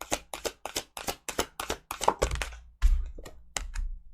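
Tarot cards are shuffled by hand, a quick run of crisp, evenly spaced riffling snaps close up, breaking into a few looser, irregular clacks near the end.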